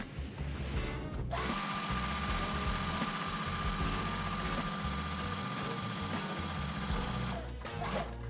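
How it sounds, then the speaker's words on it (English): A sewing machine runs steadily for several seconds stitching quilt strips right sides together, a close, even mechanical whir and rapid needle chatter that starts abruptly, holds constant and stops near the end. "All right, it's time to sew."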